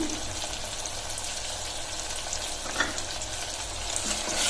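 Masala rice ingredients frying in a pan, a steady close crackling sizzle with a couple of soft stirring knocks, and no one speaking.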